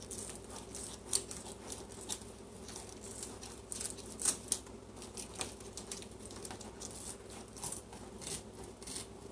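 Snipping and rasping sounds of an excess zip tie being cut off a cactus wreath on a flower board, quiet close scraping and small clicks in irregular bursts with no talk.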